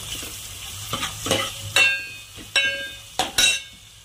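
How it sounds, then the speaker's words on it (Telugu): Onions, green chilies, curry leaves, garlic and dried chilies frying in a pan, with a steady low sizzle broken by several sharp stirring scrapes and clinks of a utensil against the pan. "ఇది కొంచెం ఫ్రై చేసుకోవాలి"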